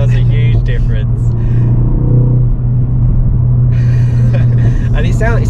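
A 2023 Ford Focus ST engine rumbles steadily with a low exhaust drone, building briefly as if revving, while people talk over it.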